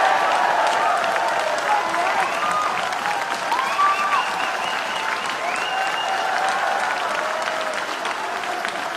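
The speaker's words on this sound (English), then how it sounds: "Well, you stood up and you applauded." Sustained applause from a crowd at a trade-union political rally following a speech, with dense, even clapping that fills the whole stretch and a few cheers or voices rising through it.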